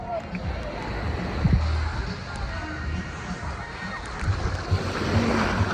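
Small, low waves wash onto a beach in Bataan at low tide, a continuous close rushing surf under gusty wind noise.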